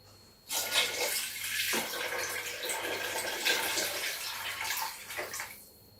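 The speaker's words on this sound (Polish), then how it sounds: "Dobra, nalewam wody." Water poured into a pot of roasted beef bones for a keto broth, a steady splashing stream running for several seconds before cutting off.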